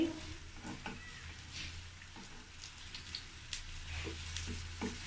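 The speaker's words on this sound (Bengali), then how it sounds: "এপাশ ওপাশ করে ভাজতে হবে।" Banana pitha cakes frying in oil after being flipped, giving a soft steady sizzle with light crackles and a few faint clicks, quiet and close, with no one talking.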